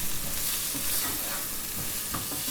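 Brinjal (eggplant) pieces with curry powder frying in hot oil, a steady close sizzle and crackle with occasional scrapes of stirring, no voices.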